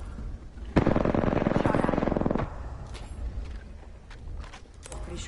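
Automatic gunfire in Apex Legends, a loud close burst of rapid shots lasting over a second, followed by scattered single shots and clicks fading in the distance.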